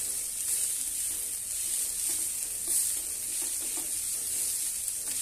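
Grated coconut fries for a squid thoran, a steady close sizzle and crackle with occasional scraping stirs in the pan, continuous and free of speech.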